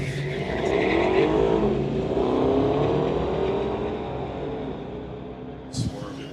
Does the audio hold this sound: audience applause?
no